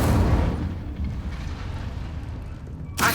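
Incendio fire spell blazing in Hogwarts Legacy: a loud roaring whoosh of flame with heavy low rumble that eases off, then a sharp crackling burst right at the end; no talking.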